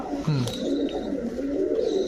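Large Giribaz high-flyer pigeons coo in a low, throaty rumble close by, set against a steady background murmur.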